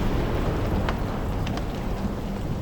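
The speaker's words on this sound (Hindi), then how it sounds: "केवल बारिश की बूंदें गिरती रहीं।" Rain falling steadily in a forest at night, a dense hiss of drops with a few brief distinct splashes, continuous and fairly loud with nothing else over it.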